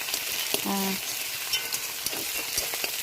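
Chopped onions sizzle steadily in hot oil in a pan while being stirred, a close continuous frying hiss with soft scraping, no talking.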